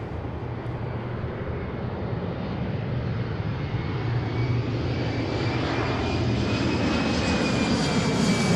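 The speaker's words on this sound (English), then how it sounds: "We have another Delta flight, 321 from Atlanta, 321 Neo to be specific." A Delta Airbus A321neo inbound from Atlanta lands on Seattle runway 34L, its jet engine roar building steadily and swelling louder as it nears, with a thin whine riding over the broad rumble.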